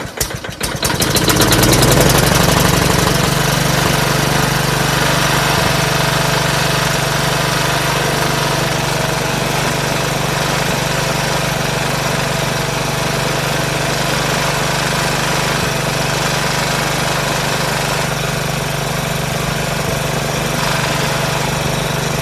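A Toro Recycler personal pace lawn mower engine catches after a brief sputtering start and settles into a loud, steady mid-pitched running drone that holds evenly for about twenty seconds, close to the listener with no voices.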